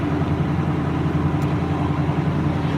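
A John Deere 8850 V8 tractor in third gear drags a 50-foot McFarlane harrow across a field, its engine a steady low drone with a rhythmic throb, close and continuous.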